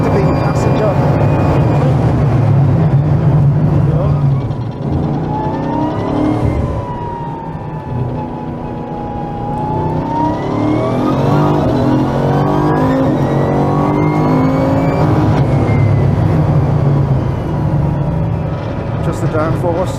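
A high-downforce performance car is driven hard, its engine rising and falling through revs in second and third gear, loud and close, with people talking in the cabin over the engine note.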